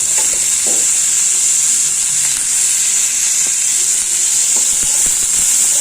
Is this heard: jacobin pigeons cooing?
no